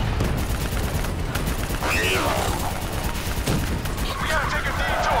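Dense gunfire rattles through a Call of Duty: Black Ops 3 battle, with sustained automatic bursts, booms and mechanical clatter, loud and continuous, while voices shout over the fighting.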